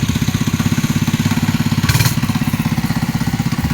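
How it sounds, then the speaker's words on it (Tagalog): A motorcycle with its original engine idles close by in a steady, fast, even putter. A brief rev or burst of noise rises midway, then settles back to the idle. "Original pa makina, Coleman."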